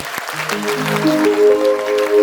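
An audience at a Home Minister women's event show in Loni Kalbhor claps in a brief burst of applause, moderately loud with a tonal musical or vocal layer over it.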